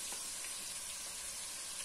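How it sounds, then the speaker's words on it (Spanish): Chopped onion sizzles in a pan pushed beside already-fried pork ribs for a stew, a steady broadband frying hiss that runs alone and fairly quietly throughout. "Y sofreímos un poco la cebolla."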